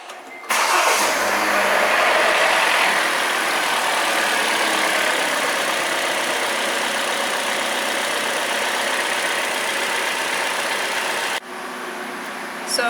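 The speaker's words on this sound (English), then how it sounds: "you'll just want to rev the engine a little bit to kind of get things flowing." A Kia Forte car engine cranks and catches, then revs and settles into a steady, loud idle close by, dropping abruptly near the end.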